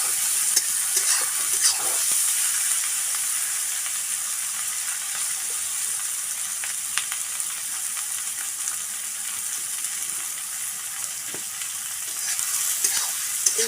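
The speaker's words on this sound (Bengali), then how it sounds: "তো এখন এটাকে ঘাটবো, একটু ভাজা ভাজা করবো যতক্ষণ না একটু লালচে লালচে হয়।" Dried fish (shutki) stirred and frying in a pan for a village-style kalo kochu dish, a steady bright sizzle with scraping spatula strokes throughout, close and continuous with no talk.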